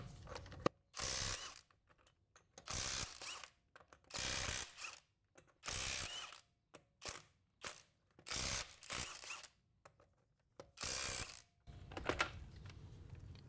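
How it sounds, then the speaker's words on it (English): A hand ratchet torques 22 mm lug nuts to 140 foot-pounds, making bursts of rapid clicking in a repeated rhythm, each lasting about half a second, separated by short pauses. The sound is close but quiet, with no talking. "So we're gonna hand torque these to 140 foot-pounds, 22 millimeters."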